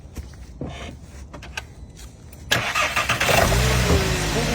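A Volkswagen Jetta engine cranks and catches after some quiet handling noises, then settles into a steady, fairly close idle that holds to the end.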